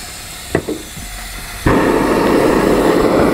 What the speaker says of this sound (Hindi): अब हमारी भट्टी को ऑन कर देते हैं।